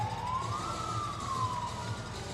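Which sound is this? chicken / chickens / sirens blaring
sirens blaring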